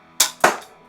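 An Armogear handbow being released and fired indoors, with two sharp snapping clicks about a quarter second apart, close and loud, each decaying quickly and with no talk.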